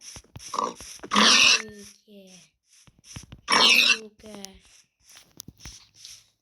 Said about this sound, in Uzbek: cho'chqa.